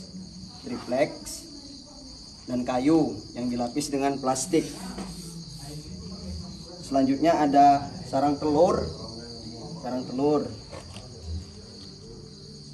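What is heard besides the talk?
farmed crickets chirping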